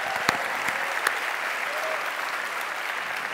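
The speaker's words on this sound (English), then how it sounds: "that's worth a round of applause" Steady applause from a crowd, dense and even clapping that holds at the same level throughout.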